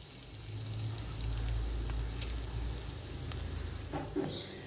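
Freshly grated coconut frying in a pan for a banana snack, giving a steady soft sizzle close by with a few light scraping stirs toward the end.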